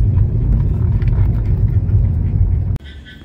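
Three cars drive past on a road at night, making a steady, loud low rumble that drops off abruptly near the end.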